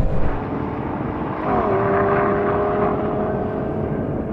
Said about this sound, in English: This engine is epic.